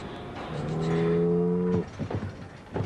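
One beef steer gives a long, loud, drawn-out moo at a crowded feedlot, followed by shuffling and scattered farm noise.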